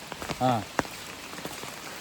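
Rain falls outdoors at night during a village festival, a soft, steady patter heard faintly throughout, with a brief voice and a single sharp tap near the start.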